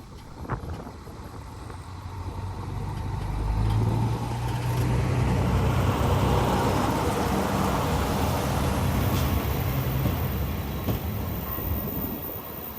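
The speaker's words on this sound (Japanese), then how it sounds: "四万十ロコをお見送りします。" Shimanto Torokko sightseeing train pulling away from a small rural station on the JR Yodo Line, a low rumbling engine and wheel noise swelling after a few seconds and holding steady, with some wind buffeting the microphone.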